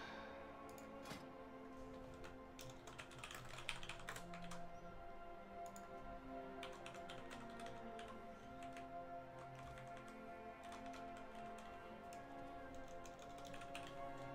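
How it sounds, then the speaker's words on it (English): A computer keyboard clatters with fast, uneven bursts of keystrokes during a World of Warcraft session, faint and close, over a low steady hum of game music and background sound. "I'm doing a great job typing today, clearly."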